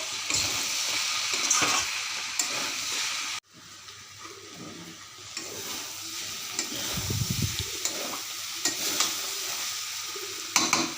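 Raw jackfruit curry sautéed and stirred in a pan, with a steady close sizzle and scraping stirs, a brief quieter gap partway through, then more frying and clattering, and no speech.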